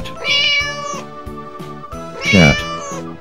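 A cat meowing twice, two clear drawn-out mews about two seconds apart, the second louder and more insistent, close and alone over a faint repeating musical backing.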